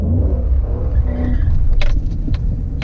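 A Chrysler 300 SRT8, driven in manual stick mode, accelerates hard with a deep, close engine rumble throughout, broken by a few brief sharp noises near the end.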